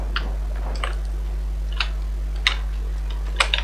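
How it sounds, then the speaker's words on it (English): A timer in the video game Dying Light 2 ticks with sparse, sharp clicks spaced irregularly over a constant low electrical hum, no talking. "Now the timer is already ticking."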